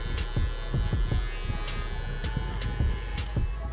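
An electric hair clipper with its lever closed cuts hair during a fade haircut. It gives a loud, close, steady buzz with repeated rhythmic pulses as the blade passes through the hair.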